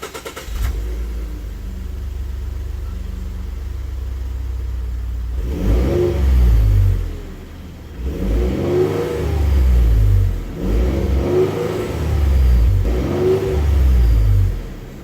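A 2013 Ford F-150 pickup truck engine cranks and starts close by after a low rumble, then revs in several strong surges that rise and fall.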